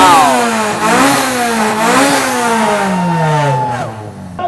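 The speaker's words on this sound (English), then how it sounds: "Now that is one serious engine tone." A Honda Civic EK9 engine revs hard at a motor show, pitch sweeping up and down through several loud, close rev cycles with a rising and falling tone.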